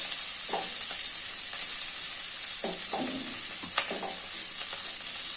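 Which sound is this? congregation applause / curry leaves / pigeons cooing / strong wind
curry leaves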